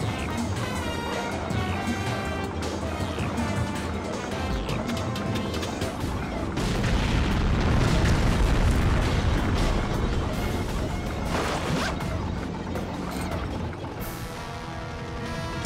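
Cannon fire in the video game James Bond 007: Agent Under Fire, on the Streets of Bucharest mission, booms through a loud, dense mix of crashes and game music that swells in the middle.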